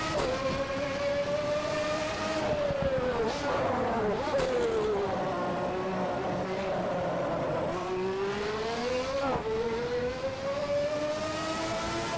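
A McLaren MP4/6 racing car engine in a video game screams at high revs, its tone rising and falling steadily through the whole stretch, loud and close with a faint voice underneath.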